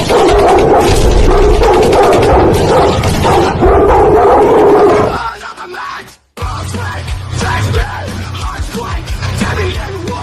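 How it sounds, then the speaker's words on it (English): Dogs bark loudly and repeatedly in a rapid, overlapping chorus at a wrestling event, cutting out briefly partway through before the barking resumes. "Release the dogs."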